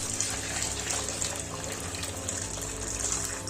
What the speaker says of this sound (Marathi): आता याच्यामध्ये आपण ओतूया गरम पाणी.